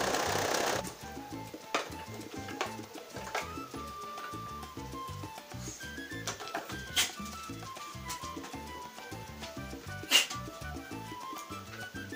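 A domestic sewing machine stitches a fabric face mask, a close, fast, steady mechanical clatter with brief pauses, plus a few faint clicks and taps and no talking.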